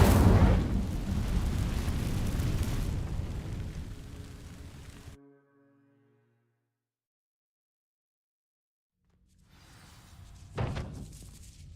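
A Incendio fire spell igniting dry vines in Hogwarts Legacy gives a loud, roaring burst of flame that fades over about five seconds, then near silence, then a low thud and rumble.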